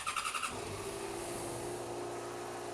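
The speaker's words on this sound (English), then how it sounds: "I'm also going to warm up the engine" A Yamaha FZ6R motorcycle idles steadily on front and rear stands while warming up, a close, constant engine drone following a brief burst of pulsing at the start.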